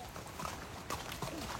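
Horse hooves clip-clop along a path at the Matheran hill station during foggy monsoon weather, a few close, uneven steps under light background noise and faint voices.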